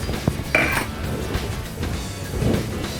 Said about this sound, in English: Grab a spoon, give it a stir